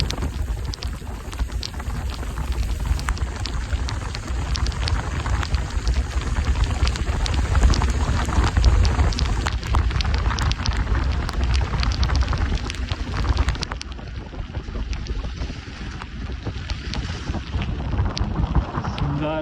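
Heavy rain at Kudremukha pours down in a loud, dense, continuous hiss with wind buffeting the microphone and patters of drops striking nearby surfaces throughout.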